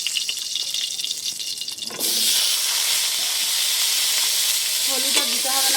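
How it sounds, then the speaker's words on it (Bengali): Potatoes frying in oil left from pointed gourd, starting as a quieter bubbling and then surging into a loud, steady sizzle, with a few light utensil scrapes near the end. "আলুগুলো ভেজে নেব এই তেলে"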